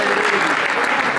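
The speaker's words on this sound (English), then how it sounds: "Round of applause" Audience at a keynote leadership talk in Gauteng, South Africa, breaks into a dense, loud burst of applause that fills the whole moment, with a voice faintly underneath.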